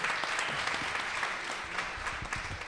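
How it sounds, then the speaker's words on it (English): Audience at a live performance of the radio drama The Witch's Tale, 'The Flying Dutchman', applauding the cast: dense, steady clapping that fills the whole stretch evenly, loud and unbroken. "Give a round of applause to two of them in particular, Allison Byhun and Desmond Zero."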